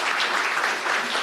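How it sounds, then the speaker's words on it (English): Audience applause after a business talk: a dense, even wash of many hands clapping together, steady and moderately loud for a brief moment, with no voices over it. "Please, a round of applause for Owen."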